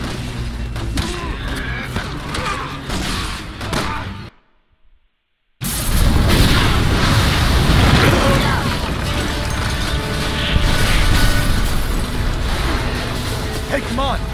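A sudden loud blast erupts after a brief silence as gas is shot in Resident Evil 6, followed by dense rumbling chaos with voices talking over the game action.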